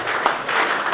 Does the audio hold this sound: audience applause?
yes